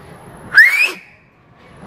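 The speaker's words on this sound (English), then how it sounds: "a guy at UPS, Freddie, who used to whistle all the time at UPS" A person gives one short rising whistle, loud and close, with quiet background before and after.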